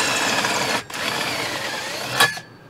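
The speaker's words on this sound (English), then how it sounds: "we're going to want to drill straight through there and out the other side of both of these" Power drill boring through the metal pole of a car canopy, a steady close whine broken by one brief pause and ending with a short louder burst before it stops.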